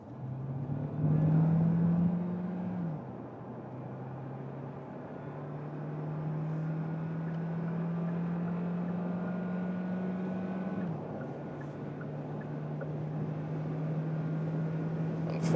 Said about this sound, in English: I can activate here also the sport mode, then the combustion engine is directly on and we can do an acceleration